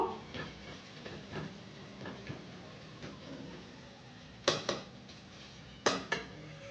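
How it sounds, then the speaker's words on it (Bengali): Onions being stirred in a cooking pan for a traditional doi katla dish, with quiet scattered scrapes and taps of the spoon, followed by a few sharper clinks of metal against the pan. "2-3 মিনিটের মতো নাড়তে থাকবো।"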